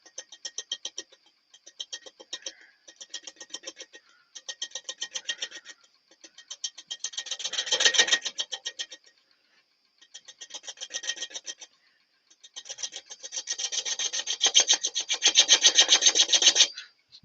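A quarter-inch bowl gouge takes a light pass on a winged wooden bowl spinning on a lathe, giving a rapid, ticking chatter from hit-and-miss cutting in bursts, swelling louder near the end, close with no talk.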